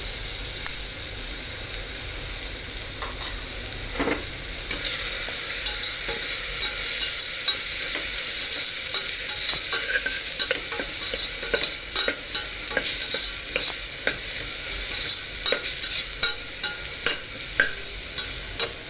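Ground chilli and coriander powder sizzle and are stirred in a pan for rajma curry, a steady loud hiss with repeated scraping strokes that grows louder partway through, with no talk.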